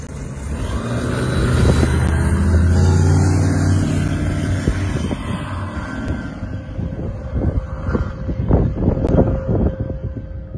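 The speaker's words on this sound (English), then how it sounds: "the wind is gusting at about 20 knots or so, pretty intense" Strong wind gusting at around 20 knots roars loudly and steadily, building to a peak before breaking into buffeting bursts, heavy rumbling wind noise against the microphone with no talk.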